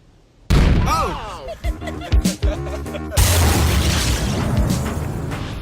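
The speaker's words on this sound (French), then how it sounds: "La pastèque a explosé." A watermelon bursts under 10,000 volts of electricity: a sudden loud boom after a quiet start, then crackling and sustained rumbling noise, with voices reacting.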